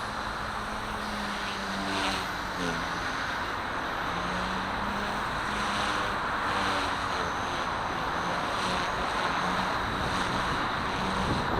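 Steady wind noise buffets the microphone while an XK K130 RC helicopter flies outdoors, a constant broad rush with a faint thin motor whine rising and falling underneath.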